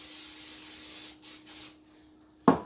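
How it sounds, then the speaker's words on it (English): A short hissing burst of cooking spray from a can, misted over a dish before baking a Mexican meal, standing alone at close range between quiet kitchen moments. "Give that a quick spray."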